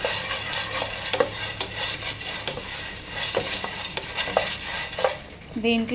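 Roasted peanuts being stirred in a pan for a peanut, pumpkin seed and sesame chikki, with rhythmic scraping and clinking of a utensil over a light sizzle, close up, no speech.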